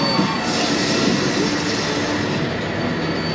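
A tour tram at Universal Studios Los Angeles rumbles steadily past at close range, with a continuous rolling roar and faint metallic squeals from the wheels.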